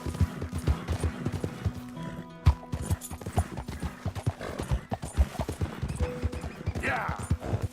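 Galloping horse hooves in the video game Red Dead Redemption 2, a fast steady rhythm of thudding clip-clops throughout, with a brief whinny and faint background game sounds.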